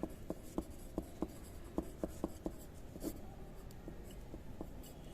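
Pen writing on a paper map, a run of crisp rhythmic tapping and scratching strokes, close and distinct, thinning out toward the end, with no speech.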